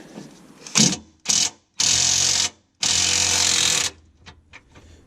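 On a Renault Megane RS 250, an impact gun loosens a bolt in several close, loud bursts of rattling hammering, two short blips and then two longer runs, separated by brief pauses with faint handling noise between them.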